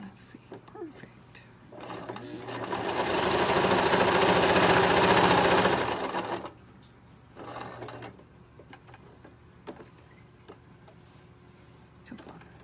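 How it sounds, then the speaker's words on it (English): A home sewing machine stitches a drawstring gift bag in a steady, loud run of about four seconds, with quieter handling and speech before and after. "I don't have to worry about pulling them as I'm sewing."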